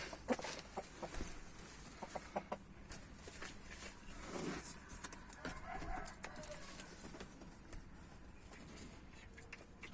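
Chickens kept alongside other hens cluck and scuffle faintly among scattered clicks and rustling, the sounds irregular and fairly distant.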